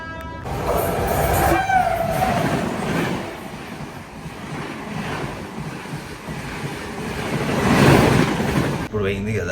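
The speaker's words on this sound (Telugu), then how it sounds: "ఇప్పుడు పోయింది కదా ఏపీ ఎక్స్ప్రెస్." The AP Express rushes past at high speed near Mellamanchili railway station at night, a loud, continuous roar with clattering wheels that surges toward the end, with a voice talking over it.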